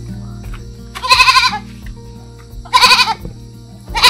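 A goat bleats three times outdoors in the Philippines, giving loud, close, wavering calls spaced a couple of seconds apart over a low steady background hum.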